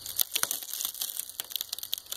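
Broken front window glass crunching and crinkling underfoot or being swept, a run of sharp close crackles and scrapes with no talk.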